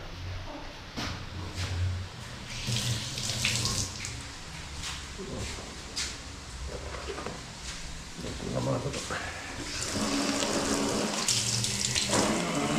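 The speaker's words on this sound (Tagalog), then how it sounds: "Lagyan po natin ng tubig para kumatas po siya lalo." Water running and splashing into a cooking pot at a home stove, a steady mid-loud pour with brief changes in flow, while people talk nearby.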